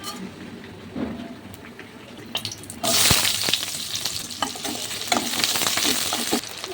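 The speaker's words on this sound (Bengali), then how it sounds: "লঙ্কা ভাজা হয়ে গেছে" Chillies fry in a pan on a rainy morning; a quieter sizzle with a few clinks swells into a loud, bright crackling sizzle partway through, with stirring scrapes and taps over it.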